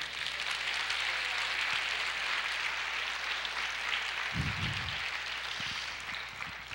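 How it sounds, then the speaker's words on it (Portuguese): A church congregation applauds during an Easter sermon, a dense, steady patter of many hands that carries on for several seconds at moderate level, with a brief low thump partway through. "Você pode aplaudir o Senhor?"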